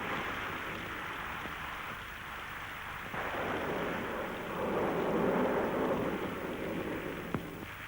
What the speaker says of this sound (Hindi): मंगला, बहुत जोरों की बारिश हो रही है,